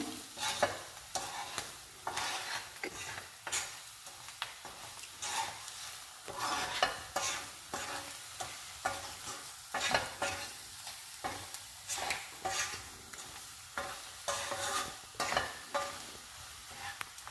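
A spicy egg curry with Guntur chili is stirred in a pan, a spoon scraping in repeated rhythmic strokes over a constant close sizzle from the hot oil, with no talking.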